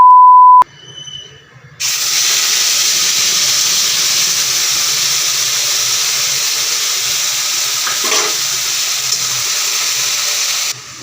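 Ginger, onion and garlic spice paste frying in hot oil for chicken samosa filling: a short beep, then a loud, steady sizzling hiss that holds unbroken for about nine seconds and cuts off abruptly.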